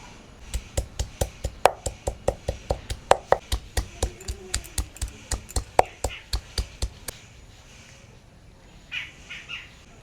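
Ginger and garlic being crushed by hand in a rural kitchen, a rapid run of about twenty-five sharp, evenly spaced thuds for several seconds, then stopping, close and clear.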